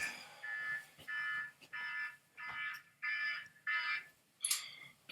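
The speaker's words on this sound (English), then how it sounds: "there goes my alarm." An alarm clock goes off indoors with a steady series of six or seven evenly spaced electronic beeps. Each beep lasts about half a second, and the whole sequence is fairly quiet and distant, with no talking.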